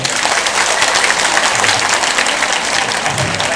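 Audience at a spiritual discourse in Manthani claps loudly and steadily, a dense, continuous wash of close applause from a large crowd with no pauses.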